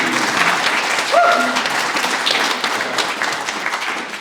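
Audience applause fills a hall at a foundation's state-of-the-organization address, a dense, steady clapping from a sizeable crowd lasting throughout, with a brief voice or whoop rising over it.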